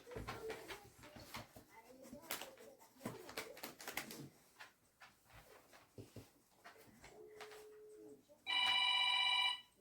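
Scattered voices and household noises, then an electronic phone ringtone starts near the end, loud and steady.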